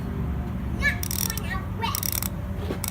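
A refurbished Proto 5649 3/4 inch drive ratchet with red lube clicks in a few quick bursts of fine, smooth pawl clicks, close by, over a steady background hum.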